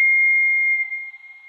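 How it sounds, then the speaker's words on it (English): A slowed sample of a lesser woolly horseshoe bat call holds a single pure, high sustained tone that stays steady and then wavers and fades slightly toward the end, alone and clear. "I used another sample of a lesser woolly horseshoe bat."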